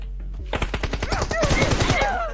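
Rapid automatic gunfire from a PUBG Mobile match rattles off in a fast burst of sharp shots, close and loud, getting denser toward the end.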